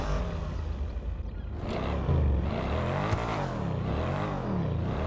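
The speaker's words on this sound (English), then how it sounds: "The Sha V12 has always been known to everyone as a great sounding car" A V12 sports car engine in GTA Online holds a loud, sustained roar, its pitch rising and falling through several revs and gear changes, heard up close and alone without any talk.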